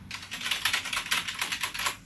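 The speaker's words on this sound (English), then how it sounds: "My keyboard isn't reacting correctly to this machine." Quick, steady clicking of typing on a computer keyboard connected to a MaiBenBen mini PC, close and fairly quiet, with no talking.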